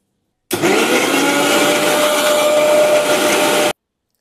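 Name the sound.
mixer grinder grinding green masala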